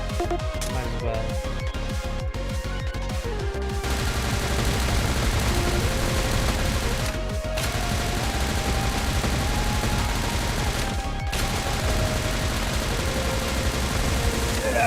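Rapid bursts of submachine gun fire in a shooter game, a dense stuttering volley for the first few seconds, then continuous loud roaring gunfire and explosions layered over game music.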